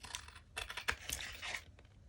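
Scissors trim the paper edges of a repurposed matchbox, with a few quick, faint snips and crisp crinkling rustles close by in a quiet room.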